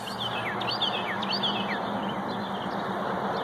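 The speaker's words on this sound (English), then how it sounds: "Some of the loudest birds I've ever heard, which I love." Several birds chirp and whistle loudly at daybreak on the Appalachian Trail in late March, quick repeated calls over a steady low hum, bright and fairly close, with no voices.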